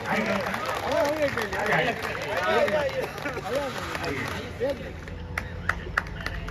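Audience at a Hindi comedy poetry festival, the Thitholi Mahotsav 2024 in Pritamnagar, Prayagraj, clapping in a lively burst with crowd chatter, while someone speaks over the applause as it thins toward the end.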